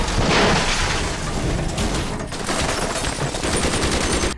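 Sustained automatic gunfire rakes a car, loud and continuous bursts with booming impacts filling the whole stretch, with no voices over it.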